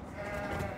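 A single sheep bleats once, a short, wavering call at moderate distance, in a pen at a research farm in New Zealand.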